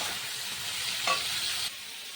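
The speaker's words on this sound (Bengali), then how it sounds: "আগে একটু উচ্ছেটা দিয়ে নিই, তারপরে আলুটা ভাজি" Potatoes and bitter gourd frying in hot oil in a wok, stirred with turmeric and salt, give a steady close sizzle with a brief louder scrape of stirring before the hiss drops lower.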